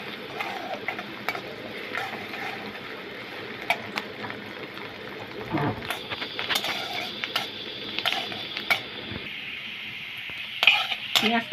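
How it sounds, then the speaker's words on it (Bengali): Chopped onions sizzle in hot oil in a kadai, a steady frying hiss broken by frequent scraping and clinking strokes of a stirring spoon close by. "এবার আমি পেঁয়াজটা একটু ভেজে নেবো।"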